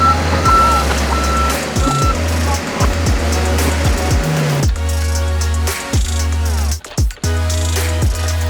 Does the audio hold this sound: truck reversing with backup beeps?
yes